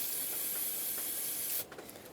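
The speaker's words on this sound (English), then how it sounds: "I'm going to spray some brake parts cleaner on a rag" Brake parts cleaner sprays from an aerosol can onto a clean rag in a steady, close hiss lasting about a second and a half, then cuts off abruptly, leaving faint rustling.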